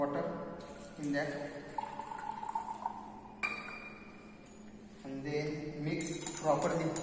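Water is poured into a glass laboratory beaker during a dextrose intravenous solution preparation, a trickling fill with glassy clinks at close range, with someone speaking over it.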